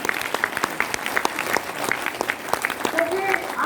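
An audience claps loudly for a guest being honoured at a DXN motivational speech event, dense steady applause throughout with a few sharp whistles or cheers rising near the end.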